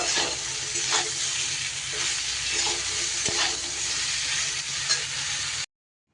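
Potato, pointed gourd and ridge gourd stir-frying together in a pan, a constant close sizzle broken by soft stirring scrapes, with no voices.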